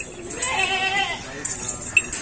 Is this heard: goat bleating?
yes